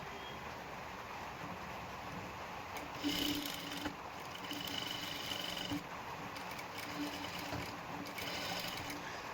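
Sewing machine stitching a princess blouse, a faint steady mechanical whir running throughout, with a few slightly louder bursts partway through.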